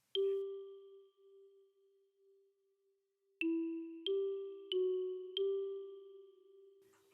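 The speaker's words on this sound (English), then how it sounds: "So now let's get to my next instrument, a bell, and let's listen to it." A sampled bell instrument: a clear bell tone rings out and sustains, then four more bright bell strikes follow in quick succession, each ringing on with a soft decay.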